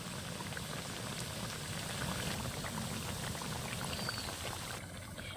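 Semolina jalebi deep-frying in a pan of oil over high heat, a steady dense sizzle and bubbling that runs close and even throughout with no talking.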